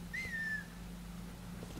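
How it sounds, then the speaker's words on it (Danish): A character whistles in the open-world crime game Mafia 3, one short rising then level whistle heard close and alone over a low steady background hum. "Og så lige fløjte på ham her."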